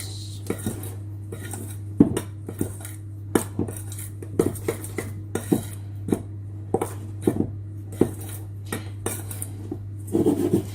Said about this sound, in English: Let's sift this. Give it a mix.